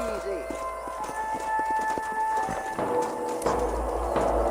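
Horse hooves clip-clop steadily in the Red Dead Redemption video game as a ridden mount trots along. The sound is close and rhythmic, with game dialogue and music over it.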